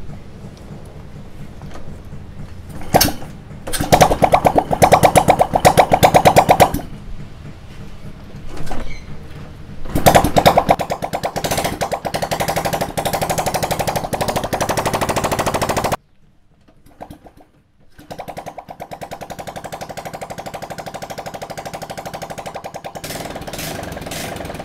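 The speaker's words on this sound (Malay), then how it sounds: "Aku tak pasang exhaust dia Kita try start dulu" A Honda Wave125 motorcycle engine runs with no exhaust fitted, giving a harsh, loud, rapid-fire popping roar that surges and revs, briefly drops off, then settles back into a steady rattling idle.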